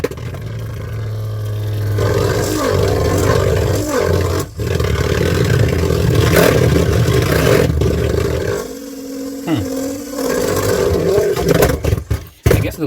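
A Beyblade Burst GT Imperial Dragon spins in a stadium with a loud, steady whirring drone and shifting tones, punctuated by brief scrapes and knocks near the end.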